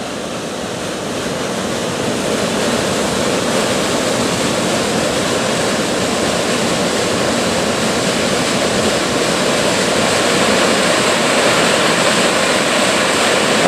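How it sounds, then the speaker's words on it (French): A strong-flowing waterfall on a hiking trail in the Creuse countryside, France, roars as a loud, steady, broadband rush of falling water that continues without break, close by and unaccompanied by talk. "Ah, nous voilà cette fameuse cascade."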